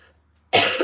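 A single sharp, loud cough bursts out after a brief quiet moment, close and harsh.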